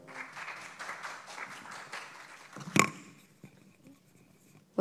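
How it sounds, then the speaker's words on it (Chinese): Scattered audience applause for a speaker at an open-source conference session, a light patter of claps that thins out, with a sharp knock partway through and quieter handling noises after. "掌声鼓励一下"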